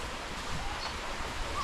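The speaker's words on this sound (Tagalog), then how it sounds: "Malakas na naman yung hangin natin dito guys." Strong typhoon wind blowing over a rice field: a broad, steady roaring rush with slight gusting swells, close and continuous across a short stretch, buffeting the microphone.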